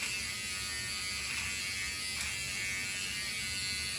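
A Remington T-Series DetailKit NE7000 precision trimmer runs with a steady, close electric buzz throughout, with small shifts in tone as it moves, and no talking.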